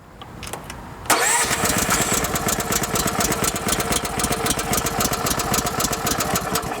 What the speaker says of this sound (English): we can go ahead and roll that engine over.